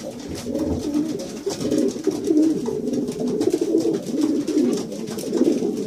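Pigeons coo steadily inside a loft holding breeding females and young birds, a close, overlapping stream of soft rolling coos that lasts throughout, with no talk.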